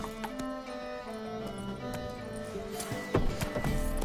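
Roach, a horse in The Witcher 3 video game, gallops with steady hoof clip-clops under a continuous bed of game music and ambience, growing slightly louder near the end.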